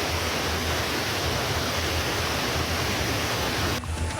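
Strong floodwater from the burst Tuntang river embankment rushes in a loud, dense, unbroken roar like a waterfall, with no voices, cutting off abruptly near the end.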